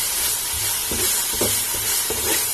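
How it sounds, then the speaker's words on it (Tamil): Ginger garlic paste sautéing for a Karaikudi Chettinad mutton biryani makes a loud, continuous hiss and sizzle, broken by a few soft scraping stirs about every half second, up close and with no voices. "இஞ்சி பூண்டு பேஸ்ட் நல்லா வதங்கணும்"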